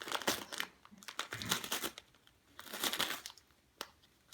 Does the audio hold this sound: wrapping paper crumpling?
yes